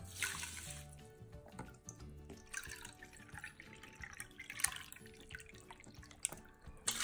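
Liquid pours into an Instant Pot of quinoa in several short bursts with dripping and splashing, loud and close, and nobody talks.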